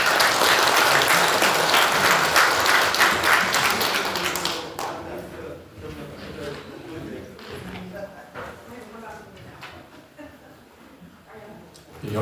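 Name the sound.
audience applause welcoming speaker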